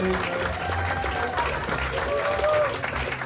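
Audience applause fills a comedy theater after a stand-up night, a dense, continuous clatter of many hands mixed with crowd noise, heard at a moderate distance and holding steady throughout.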